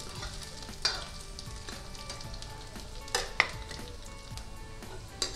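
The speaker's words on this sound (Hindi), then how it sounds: "धीमी आंच कर देते हैं अच्छे से भुनने के लिए, जब तक इसमें प्याज हल्की सी रेड हो जाएगी" Onions fry gently in a pan over a low flame, with a soft continuous sizzle broken by a few sharp clicks of stirring or spatula taps, heard close with no voices.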